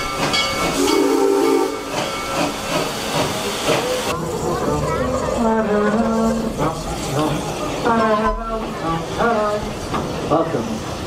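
Steam hiss from the safari train ride at Busch Gardens fills the clip, heard up close under steady, busy crowd voices and talk.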